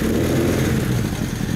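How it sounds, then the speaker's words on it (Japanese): A 1984 Suzuki GSX1100S Katana motorcycle with a Vance & Hines exhaust idles and revs loudly up close, a deep throaty rumble with a rough, pulsing exhaust note. "まず エンジンを聞かせてもらえますか？"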